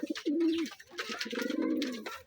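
Domestic pigeons cooing in a home loft, several soft rolling coos in close succession, near and clear with no talking.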